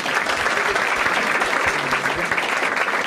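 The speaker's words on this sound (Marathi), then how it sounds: "दोघांसाठी टाळ्या वाजवा" Steady, close audience applause at a stand-up comedy show, a dense continuous clatter of many hands with no breaks.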